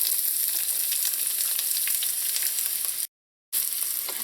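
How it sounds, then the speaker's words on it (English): Onions, scallion and pimento hit hot oil with toasted seeds in a pan for shrimp and potato curry, a loud, steady hiss with light crackles, briefly cutting to silence before sizzling on. "What I'm going to do now is add in the onions,"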